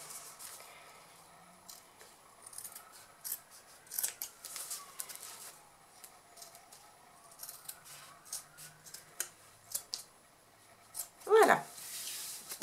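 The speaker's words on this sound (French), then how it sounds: "Les ciseaux ne coupent plus." Scissors snip through fabric, with leftover material trimmed from the sides of a crossbody bag being sewn. The dull blades give a series of short, light cuts spread through the clip. A louder burst comes near the end.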